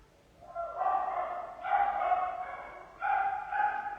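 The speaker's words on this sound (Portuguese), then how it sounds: "Os cachorros estão latindo aqui." Dogs bark in three bursts of overlapping, moderately distant woofs and yips, each lasting about a second, with no speech over them.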